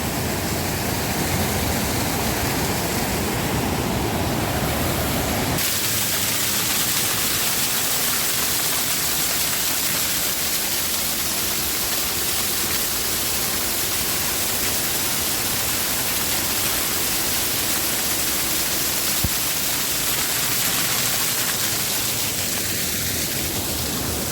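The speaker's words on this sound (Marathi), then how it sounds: "इकडून असं वरून पाणी येतो वरून इकडून तो खाली असं जातो" A Konkan waterfall pouring down from above during the rains, a dense unbroken roar of rushing water that stays loud and steady throughout, with no voices.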